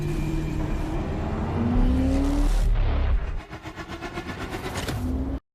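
A 2027 Audi RS5 with a 2.9-litre hybrid twin-turbo V6 roars loudly and steadily with a rising engine note, then drops back to a pulsing throb.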